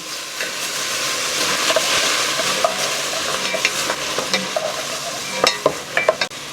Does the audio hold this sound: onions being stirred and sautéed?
yes